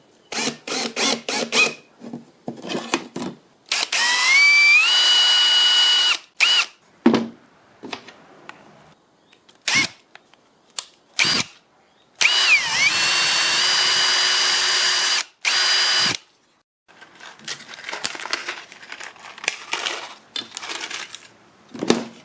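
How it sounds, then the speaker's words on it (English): A power drill whirs in repeated bursts, some long and sustained with pitch shifts, separated by clicks, clatter and brief pauses, close and loud. "I'll just go with drilling a hole up there"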